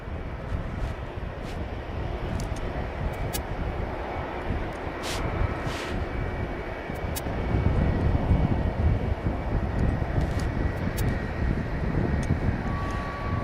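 DHL cargo aircraft at East Midlands Airport, a continuous broad jet roar and rumble from nearby that swells slightly midway, with scattered clicks and ambient airport noise.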